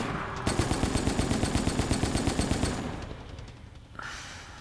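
Rapid semi-automatic rifle fire in the Operation Raccoon City video game, a fast, even string of about twenty close, sharp shots lasting a couple of seconds, then fading into quieter game sounds.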